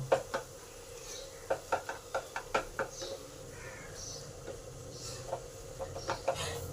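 Mashed potato being mixed into cooked green jackfruit for a jackfruit chop, with a run of quick, soft rhythmic taps and scrapes of a utensil in the bowl, pausing and then resuming more sparsely.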